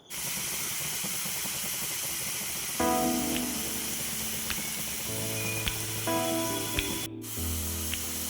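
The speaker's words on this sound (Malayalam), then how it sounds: "ഇതെല്ലാം കൂടെ ചേർത്തിട്ട് നമ്മൾ കടുക് വറുക്കാൻ പോവുകയാണ് ഗൈസ്" Mustard seeds, dried chilli, shallots and curry leaves sputter in hot oil, a loud continuous hiss and sizzle with occasional metallic scrapes and clinks, close by and without speech.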